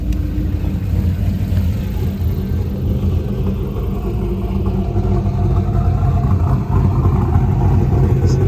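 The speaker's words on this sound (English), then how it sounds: "So there's the sound of that BTR Stage 2 cam." A 2002 Pontiac Trans Am WS6 with a BTR Stage 2 cam idles close by, its engine giving a steady, deep rumble with a slightly uneven, loping pulse.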